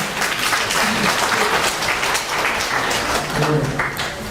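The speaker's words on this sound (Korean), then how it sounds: "큰 박수로 맞이해주십시오" An audience at a Korean policy seminar gives a dense, steady round of applause welcoming a professor to the podium, with faint voices mixed into the clapping.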